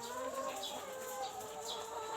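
Chickens cluck in short, repeated, close-up calls over a light farmyard background.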